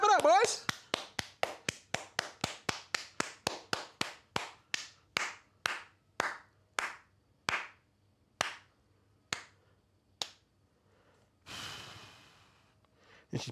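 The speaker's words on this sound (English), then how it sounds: "Clap it up, boys!" A single person claps in a rapid run of sharp, close hand claps that gradually slows and spaces out into separate claps, then stops, followed by a breathy exhale near the end.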